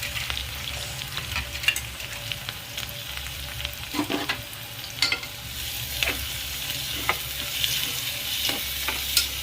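Onion pieces and clove powder frying lightly in oil for a tomato egg gravy, a continuous soft sizzle broken by scattered taps and scrapes of a stirring spoon, close and steady without talk.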